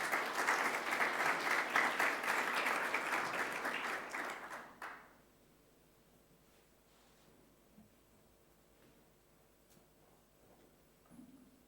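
A school sports awards assembly audience applauds with dense, steady clapping that fades out after about five seconds, leaving faint room noise and a few scattered sounds.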